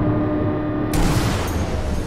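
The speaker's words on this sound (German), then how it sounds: "Zwei Schüsse." Two sniper rifle shots in the video game Sniper Elite V2, a sharp burst followed by another about half a second later, over a steady background hum.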